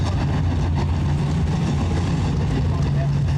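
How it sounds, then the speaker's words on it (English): Nine Sportsman class race cars run hot laps at Rapid Speedway, a loud continuous low engine roar filling the track with a commentator talking over it. "All 9 of our Sportsman cars out on the track, ready to partake in their hot lap session"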